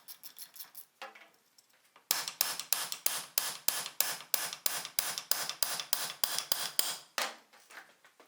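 Rapid metallic hammer strikes on a stuck lock pin during a Suzuki Ignis front wheel bearing replacement ring out in a steady series of about twenty sharp blows, close and loud, after a few lighter taps and a brief scrape.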